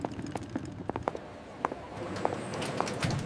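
Suitcase wheels roll across the floor of an airport departure area, giving a close, uneven run of clattering clicks and knocks that thickens into a steadier rattling rumble toward the end.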